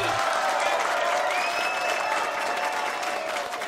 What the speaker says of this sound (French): Il faut applaudir ça, allez-y.